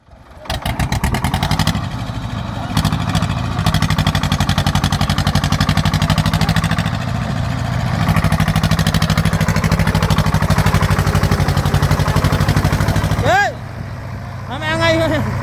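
A Swaraj tractor engine drones steadily and loudly at close range through most of the stretch, its low rumble continuous, easing off briefly near the end as the tractor is stuck; voices talk over it.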